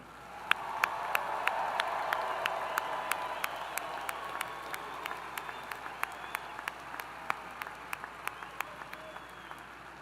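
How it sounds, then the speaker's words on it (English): A large crowd at a university commencement ceremony applauds the graduates steadily from a distance, a dense wash of clapping with a few sharp, distinct claps standing out, gradually thinning. "will you please join me in a round of applause for our new graduates?"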